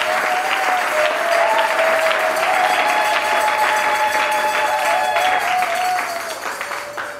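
A congregation at a Sunday church service applauds, a full, steady wash of many hands clapping with a held musical tone sounding underneath, fading slightly toward the end.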